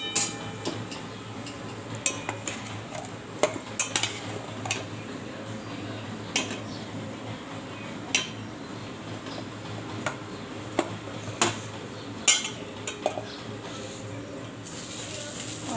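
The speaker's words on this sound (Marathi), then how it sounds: "असं मस्त तेलात परतून घ्यायचं" Crushed roasted peanuts stirred in oil in a pan for sabudana khichdi, with a low sizzle under repeated sharp ticks and clinks of a spoon against the pan.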